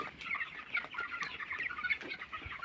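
A thousand young chicks in a poultry shed fill the air with a continuous, dense chorus of high peeping and chirping, steady and moderately faint, with no voices.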